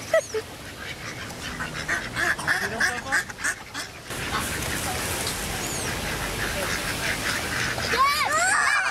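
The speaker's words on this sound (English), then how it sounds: "all these birds want food too" A flock of hungry birds being fed outdoors gives repeated quacking, honking calls over a busy rushing background, with people talking and exclaiming among them.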